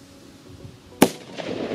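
Big firecracker exploding in non-Newtonian fluid, a single sharp bang after quiet background, followed by a splattering rustle.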